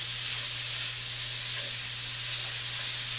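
Pork and bell peppers cooking in a pan, a steady close sizzle and hiss that stays even throughout, over a low constant hum.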